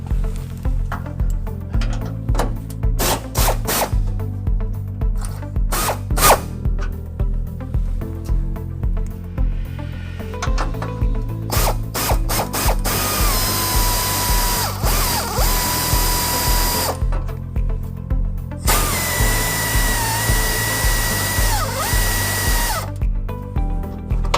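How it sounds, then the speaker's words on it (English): A power tool such as an impact driver or drill whirs in repeated bursts and long runs as bumper bolts on a vehicle are loosened about halfway, loud and close, with no talk. "we're going to take these bumper bolts up here and we're going to loosen them about halfway"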